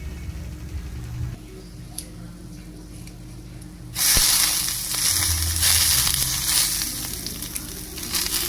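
Curry leaves hit hot tempering oil, and a sudden loud, hissing sizzle erupts midway through quiet kitchen background, then keeps crackling steadily close by.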